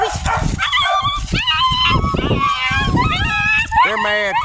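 Several puppies yip and bark in high, squeaky bursts with whimpering cries in between, close by, while a person coaxes them along.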